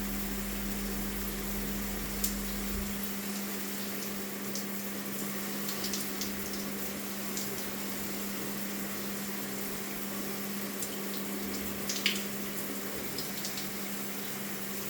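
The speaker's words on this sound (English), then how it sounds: "Both of them showers are running perfectly now." Shower running steadily after a pump repair, with hot water now flowing without cutting out; a continuous even hiss of spraying water with a low pump hum underneath, no talk.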